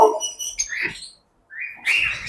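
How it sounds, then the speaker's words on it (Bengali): Bright, high lovebird chirps come in short bursts, a brief silence, then a busier flurry of tweeting, fairly close. "এই যে এইখানে দেখতেছেন যে লাভবার্ড গুলা"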